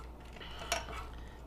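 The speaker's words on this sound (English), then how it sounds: "Just needs a little bit more stirring here" A utensil stirs goat milk and dissolved lye in a container for soap making, giving one brief, quiet clink midway over a soft, steady background.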